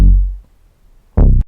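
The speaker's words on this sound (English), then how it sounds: "Now this is just a sub-lab preset called Sub Fatty 808" Unprocessed Sub Fatty 808 bass preset from the Sub Lab synth: a deep, booming sub note decaying over about half a second, then a short silence and a second punchy hit cut off abruptly.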